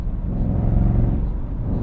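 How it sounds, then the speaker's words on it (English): A 2024 Ford Mustang GT V8 with a six-speed manual, driven in Sport mode, gives a steady deep engine rumble with slight throttle swells. The sound is loud and close, and no one speaks over it. "it's very easy to get instantaneous torque and an occasional pop from the exhaust in Sport"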